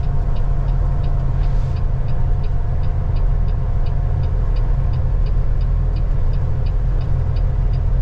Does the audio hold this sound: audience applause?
no